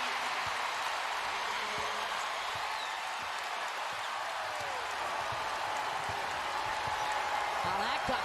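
Basketball arena crowd at a UConn vs. Villanova game roaring after a made three-pointer, a dense, sustained wash of cheering and noise that stays loud throughout.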